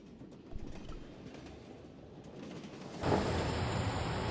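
Broken Sword 1 game train moving along the track with a low rumble and faint clatter. A steady, louder rushing roar takes over partway through.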